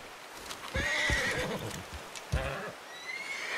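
A horse in the video game Red Dead Redemption 2 gives a loud, close whinny with a rising and falling harmonic call, then a second shorter neigh, with faint hoof clops in between and no talk.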